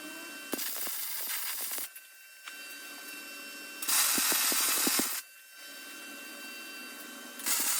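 Welding on a steel base frame for a small ride-on camper gives a close, steady crackling hiss in several long runs, separated by short pauses where a quieter hum carries on.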